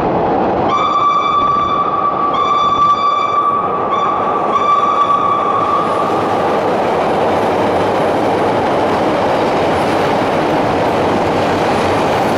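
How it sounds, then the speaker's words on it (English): A Chicago train rolls along the rails, with a loud horn sounding in several bursts at the start, then a steady rumbling roar of wheels on track. "Our first time going on a train in America"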